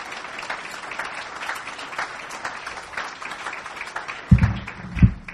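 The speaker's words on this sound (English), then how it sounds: "let's give a nice big round of applause to Rita Cioli" Audience applause at a foundation report presentation and panel, a dense, sustained patter of many hands from a seated crowd, with a couple of low thumps near the end.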